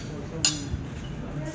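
A spoon strikes a dish once with a sharp, bright clink while stirring, standing out briefly over a low room hum as people talk nearby.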